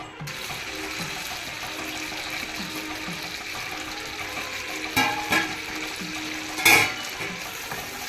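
Cashews frying in butter in a pan give a steady, close, crackling sizzle, broken by a few sharper clinks and scrapes of stirring.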